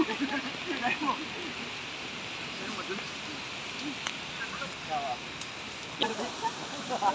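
Heavy rain and rushing floodwater roar steadily through a flooded Philippine street, a broad continuous wash with a few louder surges, while people talk in alarm over it.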